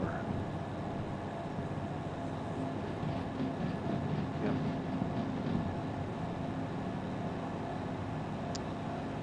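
A DH4 diesel-hydraulic locomotive in the train simulator Derail Valley throttles up, giving a faint, steady engine drone with rail rumble and a low hum that holds an even level throughout, with no sharp events.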